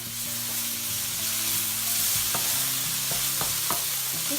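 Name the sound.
ginger garlic paste sizzling as it is stirred into the pan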